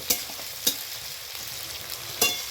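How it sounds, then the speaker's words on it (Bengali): Chopped onion and garlic fry in hot oil until golden, a constant close sizzle broken by three sharp clicks of a spatula against the pan. "গোটা এই পেঁয়াজ রসুনটাকে এখন ভালোভাবে আমি গোল্ডেন কালার পর্যন্ত ফ্রাই করে নেব"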